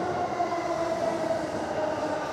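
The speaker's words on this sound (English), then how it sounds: "Here comes the train." A train pulls into a station on the Yokohama waterfront, a steady close rumble of wheels and carriages with a faint high whine running through it.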